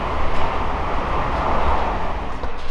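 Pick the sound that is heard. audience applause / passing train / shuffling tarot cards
passing train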